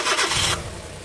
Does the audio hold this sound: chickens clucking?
no